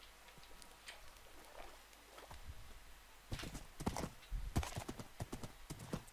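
Hooves clip-clop from a horse in a Minecraft-style survival game, faint at first and then louder, brisker steps in the second half over quiet background sound.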